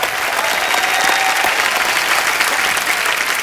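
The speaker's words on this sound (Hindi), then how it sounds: "फ्रेंडशिप अनलिमिटेड की पूरी कास्ट के लिए एक बार जोरदार तालियां हो जाए" Studio audience applauding the full cast of Friendship Unlimited on a Hindi comedy talk show, a dense, steady roar of clapping that fills the whole stretch without a break.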